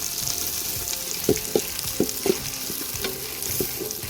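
Cubed capsicum, carrot and onion stir-fried in a pan, with a soft continuous sizzle punctuated by several distinct scraping clacks of a spatula against the pan in an irregular rhythm.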